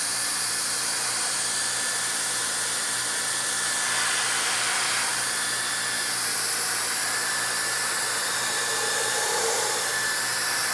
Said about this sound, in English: But I'm going to show you, they'll heat out with a hair dryer